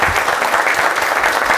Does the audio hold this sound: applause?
yes